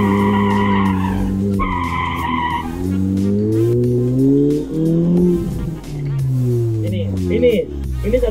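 Tires squeal in long, wavering screeches as a car brakes hard during slalom practice, the pitch sliding up and down over several seconds.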